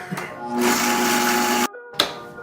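A coffee grinder whirs loudly as it grinds dried tomatoes into powder, running in a steady high-pitched burst, cutting off abruptly, then starting again briefly.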